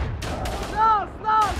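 Gunfire crackles in a trench battle in the video game Verdun, with a few sharp reports and whizzing, ringing tones layered over a steady rumble of distant combat, all dense and close.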